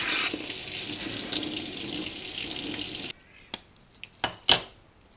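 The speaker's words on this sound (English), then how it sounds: "Right, now I'm going to put it straight into the cold water now." A red-hot annealed copper washer plunged into cold water gives about three seconds of steady, close hissing that cuts off abruptly, followed by a few sharp, isolated clinks and taps.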